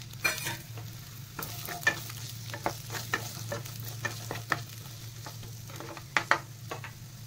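Cauliflower and potatoes fry in hot oil in a pan for an Odia-style cauliflower curry, a steady soft sizzle broken by repeated sharp scraping clinks of a spatula being stirred.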